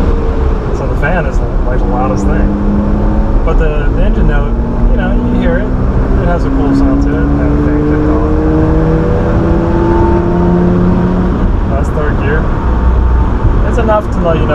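A 1983 first-generation Mazda RX-7 with a Racing Beat exhaust idles and runs steadily, its engine note fairly subdued beneath a louder air-conditioning fan whir, with continuous talking over it throughout.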